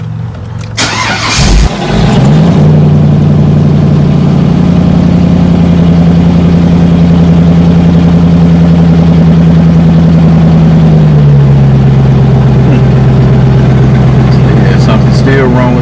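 A Corvette engine cranks briefly and catches, then settles into a loud, steady idle close by, with the pitch dropping slightly toward the end.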